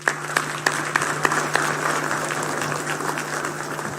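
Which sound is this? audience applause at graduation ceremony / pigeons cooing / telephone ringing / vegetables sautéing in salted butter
audience applause at graduation ceremony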